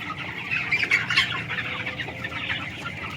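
Dense flock of about 18,500 chickens in a fully automatic, closed environmentally controlled poultry shed, a constant overlapping clucking and squawking chorus at close range.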